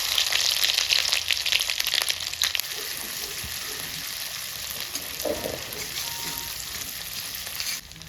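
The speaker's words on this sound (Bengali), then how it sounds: "গোটা গরম মশলা দিচ্ছি আদা রসুন পেস্ট" Whole garam masala and ginger-garlic paste fry in hot oil for paneer yakhni, a loud, steady sizzle filling the whole stretch with crackling spatter and no voices.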